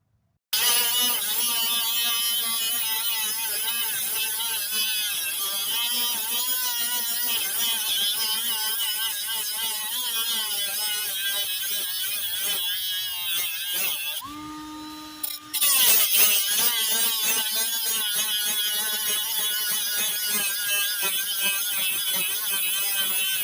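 A power tool cuts off bolts on a snow plow, a loud continuous high-pitched grinding whine held for about twenty seconds with a brief pause and change in pitch partway through.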